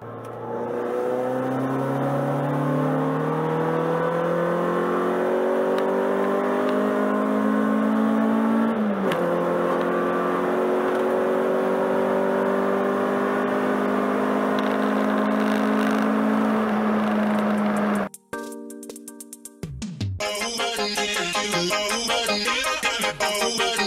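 A Honda Civic EJ1 out on a cruise gives a loud, steady engine drone that climbs through the revs, dips at a gear change and climbs again before the sound cuts off abruptly into a different noise.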